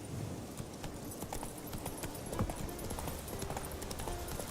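A horse gallops in The Witcher 3, its hooves clip-clopping in a quick, even rhythm over a dense game soundscape at moderate volume.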